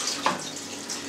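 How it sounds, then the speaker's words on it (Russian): Water runs briefly into minced meat for a Soviet-style Lubitelskaya sausage, a soft steady pour with a small splash near the start, close and alone. "Да, добавляем воду."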